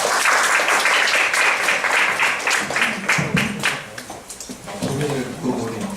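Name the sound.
audience applause welcoming speaker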